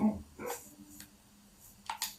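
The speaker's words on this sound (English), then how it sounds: "I need to figure out how these dogs keep getting in here." Dogs in Minecraft give a few short, fairly quiet barks and yips with gaps between them, close by and alone.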